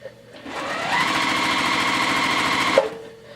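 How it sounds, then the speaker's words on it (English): A sewing machine stitching quilt fabric runs close and loud in one continuous burst of rapid, even needle chatter lasting about two seconds, with a quiet click before and after and no talk. "So I'm going to go to the sewing machine."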